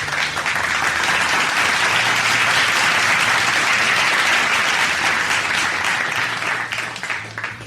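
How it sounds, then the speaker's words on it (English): A studio audience gives a sustained burst of applause for a show guest, dense clapping holding loud and steady for several seconds before tapering slightly at the end. "Please give her a round of applause"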